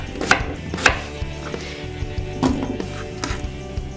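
A knife chops potatoes and carrots on a cutting board in a few sharp, separate strikes, spaced irregularly with quiet pauses between them, close by and fairly loud, with no voices.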